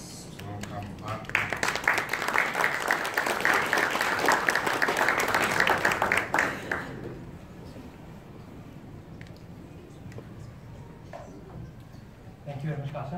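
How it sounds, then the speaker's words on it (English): An audience claps to welcome a speaker back at a professional session, a dense, loud burst of applause from about one to seven seconds that then fades into quieter room noise. "Please, let's clap our hands to welcome back."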